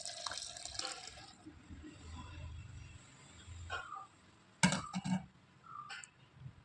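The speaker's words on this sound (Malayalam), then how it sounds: "ഇനി നമ്മൾ ഈ കുതിർത്ത് വെച്ചിരിക്കുന്ന സോപ്പിലായി ഈ പുളിവെള്ളത്തിലോട്ട് ഒഴിക്കുക" Tamarind water poured onto soaked soap for homemade lotion: a soft liquid trickle and splash with a few sharper drips and clinks near the end, close and faint.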